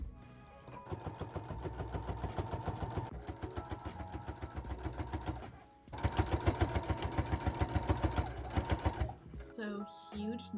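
A sewing machine hems quilted oven mitts in two long runs of fast, even stitching, a loud close mechanical chatter with a short pause between the runs, ending in brief clicks.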